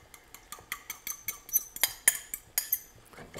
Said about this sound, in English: Give it a really good whisk till they're a little fluffy